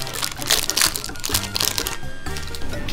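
Knife slicing naem, Thai fermented pork, on a board in a home kitchen while making tam thad, giving dense crackly, crunchy cuts and scraping that run steadily at close range, with faint background voices.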